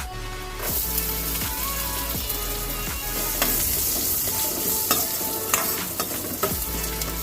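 Chopped garlic sizzles loudly in hot oil for a Gujarati kadhi tempering with asafoetida, a steady crackling fry broken by several sharp clinks and scrapes of a spoon stirring the pan.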